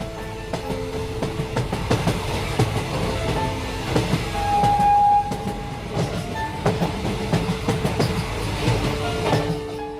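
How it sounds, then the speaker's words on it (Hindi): A train running on rails, its steady rumble and clickety-clack continuous and loud throughout, with a brief high tonal whine partway through, no voices. "एक समय जोर से ब्रेक लगाकर ट्रेन एक स्टेशन पर रुक गई"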